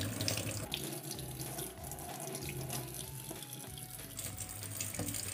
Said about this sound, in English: Let water run from the fingertips to the elbow so that the hands become cleaner than the elbows